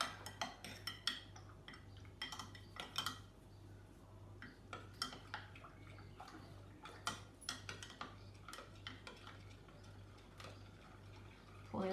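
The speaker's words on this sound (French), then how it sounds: "Alors, on va essayer avec de la farine. Donc, on mélange." Flour being mixed with water in a container, with faint irregular clinks and taps of a spoon against the vessel over a low steady hum, quiet and close.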